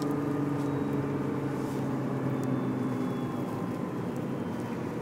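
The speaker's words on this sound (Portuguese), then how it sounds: "vocês vão poder ouvir a nota de escape" A Nissan GT-R R35 exhaust note while driving, a steady, continuous low engine drone with a constant rumble at a moderate level throughout, no talk over it.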